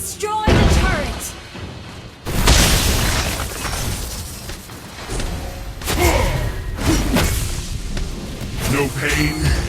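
Heavy booms and thuds from a turret being destroyed in a mobile battle game, with explosive impacts recurring through the stretch over dense game music and effects, alongside an announcer voice.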